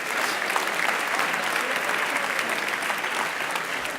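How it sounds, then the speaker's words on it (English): Audience at a TEDx event in Oxford giving volunteers a round of applause, a thick, even wash of many hands clapping at steady loudness throughout. "let's give these volunteers a nice round of applause"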